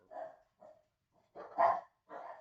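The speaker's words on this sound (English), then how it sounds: "And there's my dog." A dog barks in a short burst of five sharp, close barks spaced irregularly, the fourth loudest, with silence between them and no talking.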